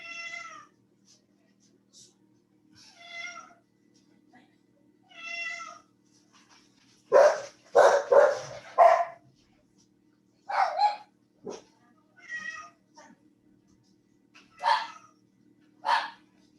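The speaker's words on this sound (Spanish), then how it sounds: "Ese gato es llorón." A cat meows several times in short, even calls spaced a second or two apart, while a person talks nearby with louder bursts of voice in between.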